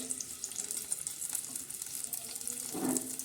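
Garlic and cumin tempering in hot oil for a moong dal with green chillies, onion, coriander and tomato, giving a soft continuous sizzle that swells into a stronger hiss near the end, close but low in level, no speech.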